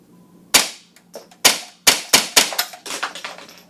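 Suppressed .22 rifle with an SRUNA suppressor firing subsonic rounds: a string of about eight sharp, close cracks, the first few spaced apart, then quicker shots in succession, each with a brief decay and no voices.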